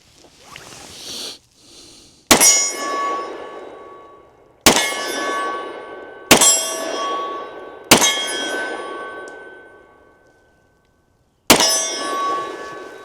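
Steel target struck by 180 gr Remington Golden Saber 10mm rounds fired from a pistol: five sharp, loud metallic clangs at irregular intervals of a few seconds, each ringing out and decaying, with no talk.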